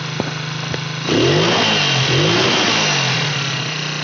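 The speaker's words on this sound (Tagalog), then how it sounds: "lalo pa po talagang tumataas ang kanyang minor habang ating binibigyan ng gas" Carburetor engine with a faulty insulator idles steadily, then its revs climb and hold high as throttle is applied, a loud continuous mechanical drone with wavering pitch and no talking.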